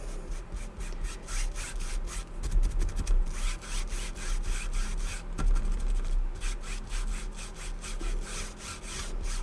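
Steady strokes of a brush spreading Mod Podge across a binder cover, a continuous scratchy rubbing with rhythmic back-and-forth passes, close and fairly quiet, with no talking.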